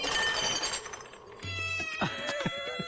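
A cat meows in a horror film, with a couple of short, close cries that rise and fall near the end over sustained, eerie droning tones.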